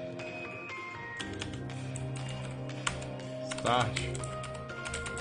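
Rapid clicking keystrokes on a computer keyboard at a PC run steadily throughout, close and clear, with someone talking over them and a brief musical jingle rising near the end.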